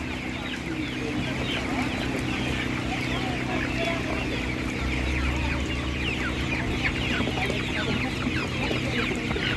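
Czech Dominant chickens cluck and call continuously at a busy village animal market, with a rooster among them and people talking in the background.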